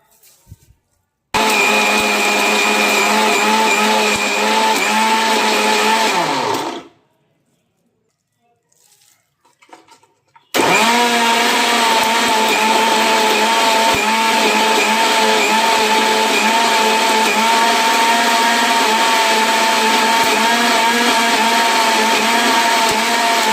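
A kitchen mixer grinder whirs loudly while grinding cooled herbal shampoo ingredients, running in two long bursts split by a few seconds of near silence and small clatters, a steady motor whine with rattling from the jar.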